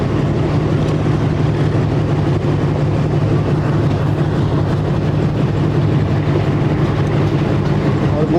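Passenger train rolling along the rails between Rawalpindi and Havelian, a loud continuous low rumble with a steady hum and rattling carriage noise heard from on board, no speech.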